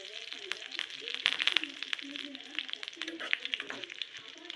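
Half teaspoons of fennel and cumin with two dried chillies fry in hot oil for mushroom chukka, giving a steady, close crackling sizzle with scattered sharper pops throughout.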